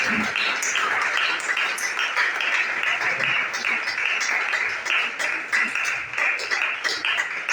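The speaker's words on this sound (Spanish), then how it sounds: "Denle un fuerte aplauso a nuestro Padre Celestial." A church congregation claps loudly and steadily in praise after a prayer, dense applause sustained throughout with no break.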